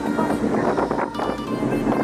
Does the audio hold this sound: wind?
yes